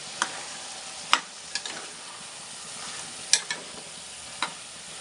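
A spoon stirs chicken and chana dal curry in a cooking pot, giving a few scattered scraping clicks and light knocks over a soft, steady sizzle, close and fairly quiet.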